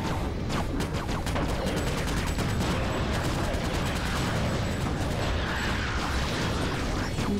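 Gunfire from Ratchet & Clank: Going Commando (Ratchet Gladiator) on PS3 rattles in a dense, continuous stream of rapid mechanical shots and clicks that stays loud throughout.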